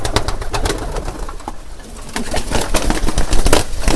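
Desi pigeons coo in a loft, repeated soft throaty calls up close, with scuffling and occasional wing flaps among the flock.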